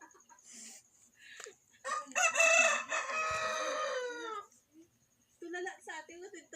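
Chickens cluck softly and a rooster gives one loud, drawn-out crow up close, with brief quieter fowl calls before and after it.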